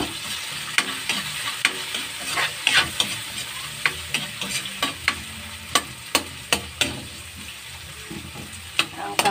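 Stir-frying in a noisy wok, a constant crackling sizzle broken by repeated sharp metallic clanks as the spatula strikes the pan, close and lively with no voices.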